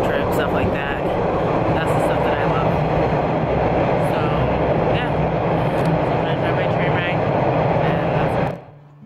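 Steady loud rumble and rattle of a moving train carriage, continuous throughout, with faint voices in the background before it cuts off near the end.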